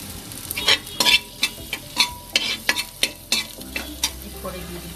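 Garlic dropped into hot oil with cinnamon, cloves and bay leaf for pressure-cooker pulao, frying and sizzling while a spoon stirs in quick repeated scrapes and taps, close and clear with no talk.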